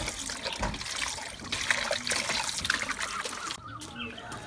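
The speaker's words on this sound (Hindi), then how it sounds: "अब इसको एक दफ़ा पानी से धो लेंगे अच्छी तरह।" Raw chicken meat being washed under running water in a home kitchen, a steady splashing trickle with brief handling noises, fairly close, no talk.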